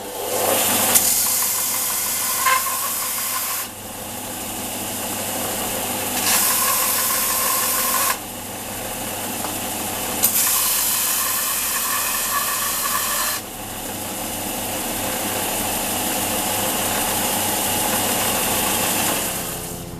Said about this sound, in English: I'm just going to sand down the raw edge here, not too much, just to get it smooth